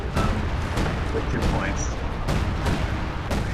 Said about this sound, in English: As their super artillery hits.